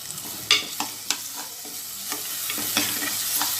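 Onion and ginger garlic paste fry in a pan for a mushroom gravy, with a soft, steady sizzle. About eight crisp scrapes of a spoon stirring break it at uneven intervals, close, with no voices.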